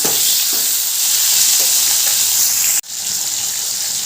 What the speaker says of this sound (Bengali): এবার ওই তেলে দিয়ে দিলাম একটা কুচি করে কেটে রাখা টমেটো টমেটোটা একটু ভালো করে ভেজে নেব